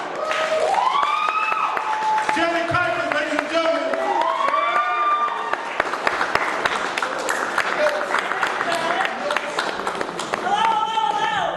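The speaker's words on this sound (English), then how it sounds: "Put your hands together, start clapping right now." An audience at a poetry feature in a Chicago fine arts venue applauds and claps for a poet, the clapping running steadily under a host's announcing voice.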